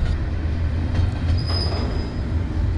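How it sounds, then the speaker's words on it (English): A freight train on a rail line between Ontario and New Brunswick rumbles heavily as it arrives, its wheels giving a thin, sustained high squeal partway through over the continuous low roar. "Our train has just arrived and it's already done its crew change."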